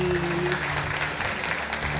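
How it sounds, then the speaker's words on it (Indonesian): An audience at a talk show gives steady applause as writer and sociologist Okky Madasari is welcomed on stage, a brief, even patter of clapping with a faint voice underneath. "Tepuk tangan untuk Kak Oki Madasari"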